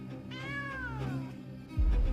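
A cat gives one long, rising then falling meow, clear and fairly close, in a dubbed South Indian horror-thriller film scene, followed by a sudden low rumbling thud at the end.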